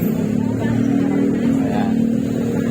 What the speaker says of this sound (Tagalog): medyo matraffic sa mga oras na to, rush hour